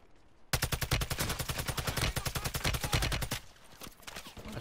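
Call of Duty MW3 Warzone gunfire: after a quiet moment, a loud, rapid automatic burst rattles for about three seconds before cutting off.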